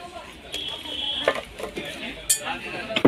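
Metal woks (kadhai) clinking and clanking as they are handled in a utensil shop, with several sharp metallic taps scattered over about three seconds beneath background chatter.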